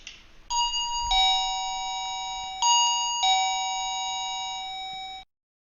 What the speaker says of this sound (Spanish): ahora aprieto el botón del timbre